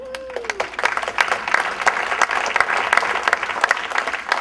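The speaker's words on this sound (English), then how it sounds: "And after Rosie, who's going to come up here to a rousing round of applause," A room of attendees at an Abington Lions Club service summit gives a sustained round of applause, brisk, close clapping continuing throughout.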